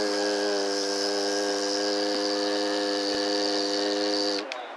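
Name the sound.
bhramari pranayama humming bee breath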